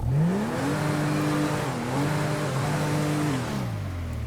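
A 2014 Dodge Charger Pursuit engine revs steadily in the game FiveM with a rising, holding, dipping then climbing whine, one continuous run of several seconds, loud and close, no voices.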